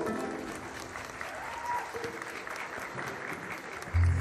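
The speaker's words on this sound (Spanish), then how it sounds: "¡Fuerte el aplauso para ellos!" Crowd applause at an outdoor huapango huasteco dance contest in Las Joyas, Querétaro, cheering competing dance couples; sustained moderate clapping from a distance with faint background noise and a low thump near the end.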